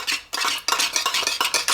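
Pink gel chafing fuel is stirred inside its metal can with a utensil, giving a close, loud run of repeated scraping, clinking strokes in a steady rhythm with no voices.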